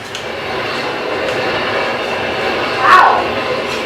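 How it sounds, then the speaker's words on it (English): Video game trains rush past in a loud continuous rumble and rattle, with a brief swell and metallic squeal near the end; no talk is heard. "These trains are quick."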